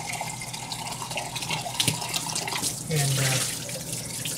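Tap water running while a kefir jar is rinsed, a steady splashing stream close by with a brief clunk, and a short spoken word over it.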